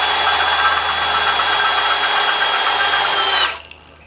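A Milwaukee drill bit bores into metal on a big sawmill, giving a steady high whine that runs for about three and a half seconds, then stops abruptly.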